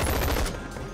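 A short, loud burst of rapid gunfire from weapon testing in the VR game Boneworks, several close shots in quick succession that fade out within a second, with no talk.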